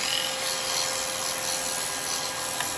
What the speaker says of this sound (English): Right, get a little bit of sanding on that.